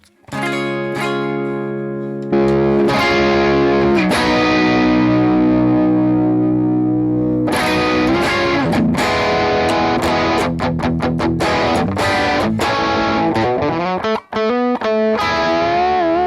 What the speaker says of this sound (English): So we've got distortion of sorts.